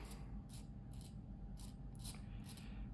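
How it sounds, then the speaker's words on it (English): An X-Acto blade scrapes a seam line off a plastic part of a 1/48 F/A-18E model kit, giving about six short, close, rasping strokes in a steady rhythm over a faint background hum. "I'm gonna take my X-Acto blade, and I'm gonna come along, and I'm just gonna try to scratch off that seam line."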